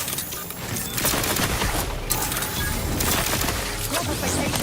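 Dense bursts of gunfire in The Outer Worlds crackle loudly and almost continuously, rapid overlapping shots with brief voices mixed in.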